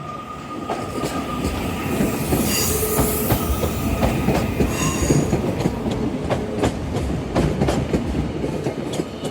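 A Class 331 electric train at Manchester Piccadilly station, heard up close with rumbling wheels, repeated clicking over rail joints and brief high squeals, loud and continuous for about nine seconds without talk.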